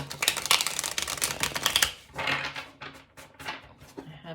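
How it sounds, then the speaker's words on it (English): A deck of tarot cards is shuffled in quick, crisp riffling bursts, close up, with brief pauses between rounds of shuffling. "And give the deck one last shuffle."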